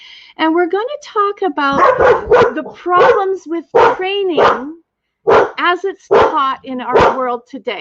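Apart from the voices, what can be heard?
dog barking in the background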